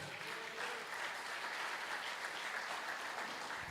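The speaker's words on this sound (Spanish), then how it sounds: "Den un fuerte aplauso al Señor." A church congregation applauds loudly and steadily, a dense wash of clapping from many hands holding an even level throughout with no break.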